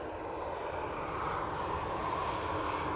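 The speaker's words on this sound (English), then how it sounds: "that Ryanair's making a bit of a weird noise there" A Ryanair Boeing 737 departing Manchester Airport roars steadily as it climbs out, a broad continuous jet rumble with an odd, unusual tone to the engine noise, heard from a distance without speech.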